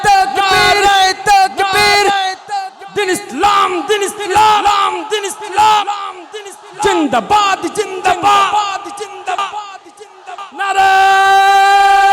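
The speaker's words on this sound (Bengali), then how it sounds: "জোরে একবার তাকবীরের ধ্বনি উচ্চ কণ্ঠে তুলুন" A large crowd at an Islamic ghazal stage performance roars a chanted takbir response in loud, repeated voiced bursts, swelling and overlapping, with a sustained tonal chant rising at the end.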